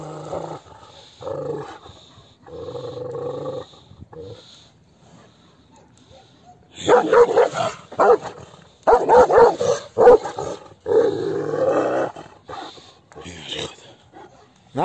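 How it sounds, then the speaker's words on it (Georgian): A Georgian nagazi shepherd dog, an eleven-month-old pup, gives loud barks and growls in bursts, some near and sharp, mixed with someone talking throughout. "იმიტომ რომ მართლა მაგარი ძაღლი მყავს"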